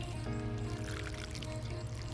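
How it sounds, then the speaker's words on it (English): Water poured slowly into a garden plant pot on a hobby farm, a soft continuous trickle over a low steady background hum, quiet and with no talk. "Make sure it's enough water to get down in there, deeper to the roots."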